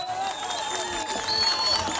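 An audience at a Swahili-language political gathering applauds a lawyer who has just finished speaking, a sustained wash of clapping from a crowd, fairly loud and even across the short stretch.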